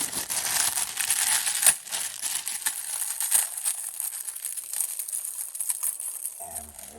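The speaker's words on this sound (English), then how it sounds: "So I'm going to see if I can just cut this, make it a little bit easier to get her open." Plastic doll packaging being cut open, giving a steady crinkling, snipping rustle up close with a couple of sharper clicks, fading near the end.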